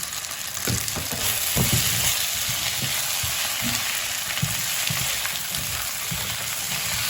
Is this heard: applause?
no